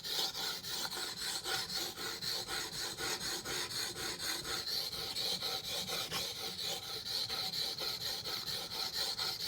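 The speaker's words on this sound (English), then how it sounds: "I want to sharpen this some more." A ZT knife blade slides in steady, even strokes across a whetstone, a continuous close rasping hiss that repeats in a regular rhythm, with no talking.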